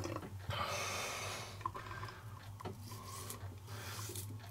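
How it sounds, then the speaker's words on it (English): A Gillette Mach 3 three-blade razor drags across stubble with close, raspy scraping strokes, a few distinct passes separated by brief pauses. "I'm gonna switch over and do the Gillette Mach 3 real quick."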